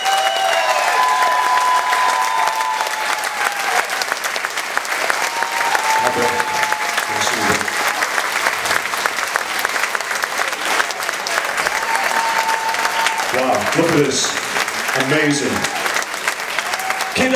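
A large audience at an Elvis Week tribute event in Memphis, Tennessee claps for veterans on stage: continuous, full applause for over fifteen seconds with occasional voices and cheers cutting through.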